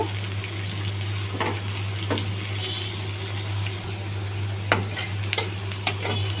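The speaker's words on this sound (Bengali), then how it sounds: "পেঁয়াজগুলোকে সুন্দর করে ভেজে নিব" Chopped onions frying in hot oil in a pan while a hilsa fish curry is cooked, a steady low sizzle with a few sharp clinks of a utensil against the pan toward the end.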